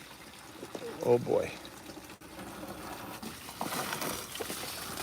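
A garden hose sprays water hard outdoors in 109°F heat, a steady hissing rush that swells toward the end, with a person's brief exclamation over it.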